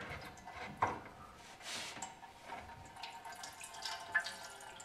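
Water drains from a loosened kitchen sink trap into a catch container, faint irregular dripping and trickling with a few soft clunks close by.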